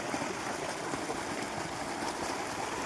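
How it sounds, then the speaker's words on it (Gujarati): Water gushes steadily from a farm borewell in a village field, a continuous, fairly loud broadband rush of flowing water with no voices over it. "આ છે અમારો બોર જેમાં પાણી આવે છે સરસ મજાનું"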